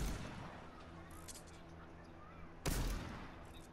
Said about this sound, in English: That's me that's shooting.